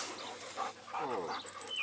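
An injured three-legged dog, shot and left missing a leg, gives soft whimpers and short whines at close range over a quiet outdoor beach background.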